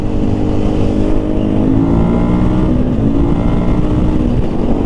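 A motorcycle on a road test ride drones steadily and loudly from the rider's position, its engine pitch rising and shifting as it pulls through the gears, with heavy wind rumble throughout.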